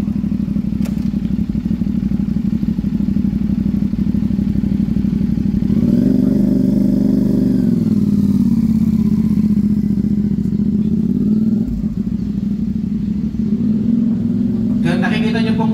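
A motorcycle pulls away during a riding safety demonstration on a course, its engine rumbling steadily near and loud, swelling as it takes off midway, with talk over it throughout.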